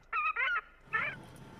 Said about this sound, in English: identify the bird and play its distress call